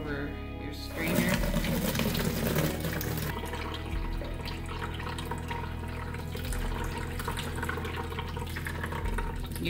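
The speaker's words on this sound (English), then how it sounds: "Now it's time to strain the pulp from the corn mixture." Corn pulp mixture strained over a strainer for making pap (akamu, ogi), a steady splashing, trickling flow of liquid throughout with a few faint knocks, heard under a voice talking.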